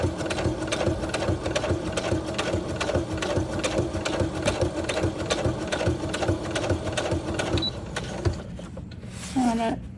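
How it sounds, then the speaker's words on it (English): A sewing machine runs a continuous straight stitch while making flip-out pockets, its fast steady needle clatter close and loud, slowing near the end with a brief rustle of fabric. "I'm going to change to a straight stitch"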